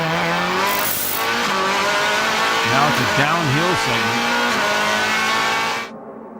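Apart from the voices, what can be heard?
Laurent Aiello's Audi DTM race car on track, onboard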